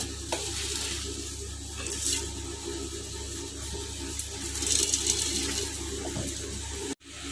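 Dried red chillies, chana dal and urad dal roast in a pan, giving a soft, steady sizzle with occasional stirring scrapes, a brief louder rustle midway and an abrupt cut near the end.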